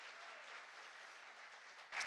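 An audience at a DXN distributors business meeting in Qatar bursts into sustained applause, a dense wash of clapping that stays steady to the end, with a brief sharper swell at the close.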